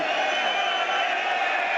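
Leeds United fans in a football stadium crowd roar and applaud during a Barnsley versus Leeds Championship match, a loud sustained mass of cheering with no break.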